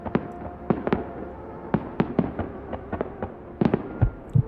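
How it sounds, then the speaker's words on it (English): New Year's Eve fireworks pop and crack at a distance in a steady, irregular scatter of short bangs. A few louder reports come toward the end. "Look at all the fireworks."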